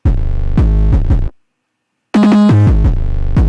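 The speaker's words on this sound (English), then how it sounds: "We have the 808 right here." Heavily distorted 808 bass from a hip-hop track plays loud and booming in repeated thick hits, cutting out for a short gap of silence before returning with layered tones.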